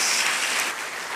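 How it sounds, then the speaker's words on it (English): Audience applause fills a hall at a National Space Day symposium, a dense, loud wash of clapping that eases slightly toward the end. "I would request you to please give him a big round of applause."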